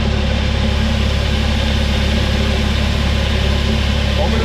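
A 1997 tractor engine runs steadily at close range, a constant low rumble and vibration with no change in pace, set in a farm scene while hydraulic oil is being filled.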